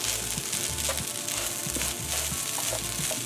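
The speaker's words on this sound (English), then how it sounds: "the goal here is to make sure that every kernel gets as separated as possible and gets coated in the lovely fat that is in this pan." Curry fried rice sizzles in hot fat in a pan, a loud close crackle with rhythmic scraping and stirring strokes throughout.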